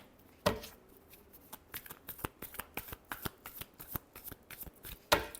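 Tarot cards being shuffled by hand in a quiet room, a run of crisp riffling snaps and flutters at an uneven rhythm, with a sharper louder riffle at the start and another near the end.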